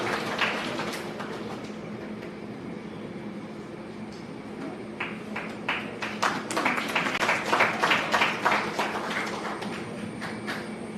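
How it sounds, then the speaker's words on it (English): Applause at a law lecture in India, starting as scattered claps over a steady room hum, then building into a denser burst of hand clapping near the middle before easing off, all at moderate distance. "Please give a round loud of applause."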